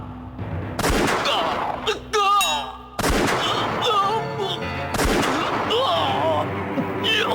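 Heavy gunfire in a police encounter from a Hindi-dubbed action film: loud repeated volleys burst out at intervals, mixed with dramatic music and brief shouted voices.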